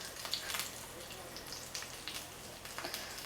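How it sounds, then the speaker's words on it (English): Bread cubes frying in olive oil in a pan to become crispy croutons, a soft continuous sizzle with light crackling pops, fairly quiet. "I've got the bread going. The same idea, some olive oil in the pan."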